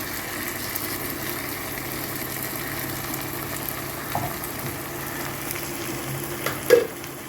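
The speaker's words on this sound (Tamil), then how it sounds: "கருவேப்பிலை போட்டு நல்லா வதக்கிட்டு பச்சை மிளகா எல்லாம் போட்டு நல்லா வதக்கிடலாம்" Curry leaves, green chillies and tomato sauté for sambar in a pan, a steady close sizzle and fry with faint stirring scrapes and a single louder clatter near the end. No one speaks.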